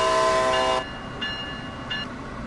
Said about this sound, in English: If you guys are wanting to know how to honk the horn, you guys can do this